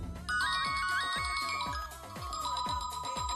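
A mobile phone ringtone plays a repeating electronic melody over a thumping beat, loud and close, with no talking.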